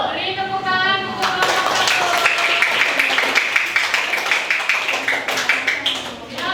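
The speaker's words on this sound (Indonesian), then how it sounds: "Beri tepuk tangan untuk" A classroom audience claps for a student presentation group. The clapping is steady and fairly close, with a rhythmic tapping pattern that continues through the whole stretch while voices murmur underneath.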